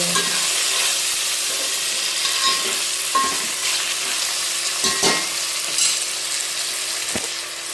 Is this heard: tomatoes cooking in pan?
yes